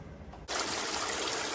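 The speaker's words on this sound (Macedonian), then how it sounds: "Тука сум во Нишка бања, покрај извор со топла вода." Hot mineral spring water flows from an outdoor source at Niška Banja, a steady bright splashing rush that swells suddenly louder partway through and then holds constant, close and alone.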